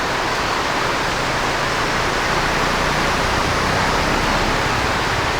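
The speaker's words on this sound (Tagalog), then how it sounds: "Medyo palakas ng ulan." Heavy rain pours down in a dense, unbroken hiss, loud and steady with no other sounds.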